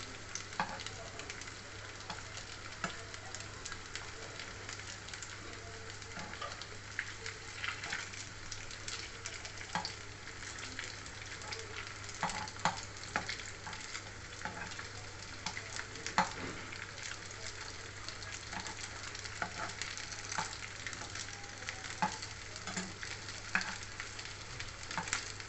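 Fish sausages fry over medium heat in a pan, making a soft, continuous sizzle with faint crackles that runs steadily throughout at low volume.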